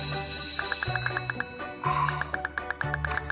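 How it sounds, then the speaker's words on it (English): A school bell in the video game Kindergarten 2 rings in repeated electronic bursts, a steady rapid chiming pattern that starts and stops in cycles over a low background music loop, with no talking. "That's the bell!"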